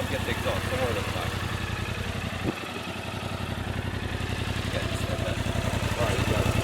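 A Yamaha R7 motorcycle with a full M4 aftermarket exhaust rumbles steadily up close with a dense, pulsing low-end idle, briefly dipping then building again, with voices talking faintly over it.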